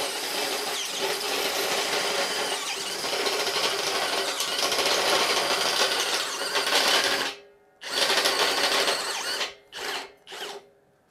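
A Bosch GSB 18V-65 cordless drill bores steadily in first gear on a metal welding table, a loud continuous whine that runs for about seven seconds, then cuts out and restarts in a few short bursts.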